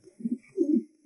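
Racing pigeons, back from a 300 km spring race, coo twice in soft, low, rolling phrases, close and clear against a quiet background.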